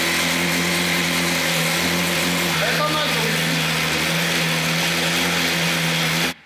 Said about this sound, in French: Et on va vous faire le premier démarrage de cette moto